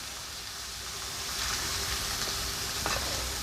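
Cooked potatoes added to a pan of browned minced beef and peas for samosa filling, heat just turned off: a steady close sizzle and hiss with faint scraping, alone without talk.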